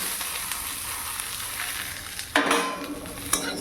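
Potatoes fry in a pan with a steady, close sizzle, and a sudden louder hiss flares up partway through as something is stirred or added, with no voices.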